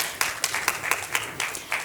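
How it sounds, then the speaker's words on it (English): Audience applause at a live IoT award ceremony, heard as a short burst of scattered claps with about eight sharp peaks over roughly two seconds, moderately loud and with no voices. "It deserves a round of applause."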